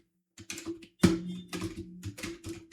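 Quick bursts of keystrokes on a computer keyboard, with sharp clacks and a heavier thump, typed close up against a faint low hum.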